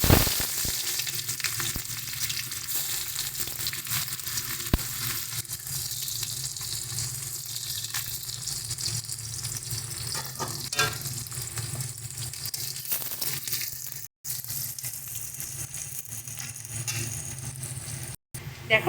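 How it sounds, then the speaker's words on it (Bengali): Onions frying in hot mustard oil in a wok make a close, steady hiss and crackle with occasional stirring sounds. A brief dropout breaks the sizzle near the end. "এবার আমরা প্রথমে পেঁয়াজটা ফোড়ন দিয়ে দিচ্ছি"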